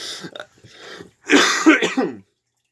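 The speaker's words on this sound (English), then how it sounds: "Still getting over the cough." A few rough coughs and throat clears, close and dry, the last burst louder, followed by silence.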